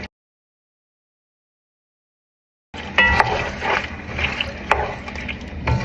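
Shrimp dropped into a hot pan for a curry with chickpeas, sizzling and frying with scraping stirring, starting abruptly after near-silence and continuing steadily close up.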